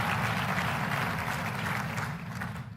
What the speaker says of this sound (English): How about a round of applause for all of you?